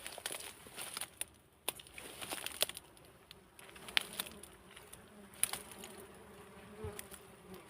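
Wild bees buzz steadily around their nest on a rotten branch, a thin, close hum scattered with sharp clicks and crackles of twigs being handled.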